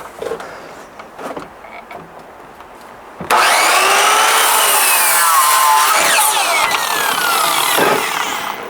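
A saw bites into a 2x4 wooden board with a sudden loud, rasping cut that holds steady for about five seconds and eases at the end, after a quiet stretch with light handling noises.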